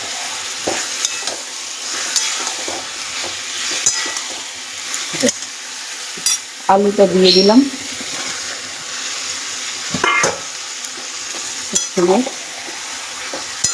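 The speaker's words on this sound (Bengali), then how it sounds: "এবার এটা আমি গ্যাসটা মিডিয়ামে রেখে সুন্দর করে কষবো।" Stirring and scraping in a pan with a soft sizzle underneath as minced goat meat is sautéed over medium heat, punctuated by clinks of a utensil; a voice speaks briefly partway through.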